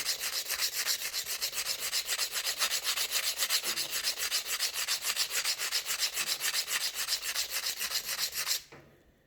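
Steady rhythmic grinding as a gemstone is worked smooth against an abrasive surface, loud and close, with quick repeated strokes running continuously before stopping abruptly near the end.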